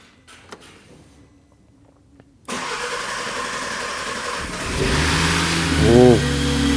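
An Audi RS3 engine fitted into an RSQ3 cranks and fires up after a quiet stretch, then settles into a loud rising idle with a quick rev, while a person exclaims over it.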